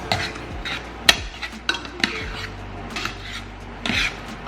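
A utensil scrapes and clinks against a pot while potatoes are mashed and stirred with sour cream and butter, giving close, irregular rubbing strokes and sharp metallic taps.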